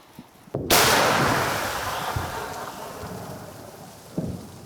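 A single heavy boom from a Soviet-made artillery gun firing cracks out and rolls into a long fading rumble, loud and distant-sounding, with another dull thud near the end.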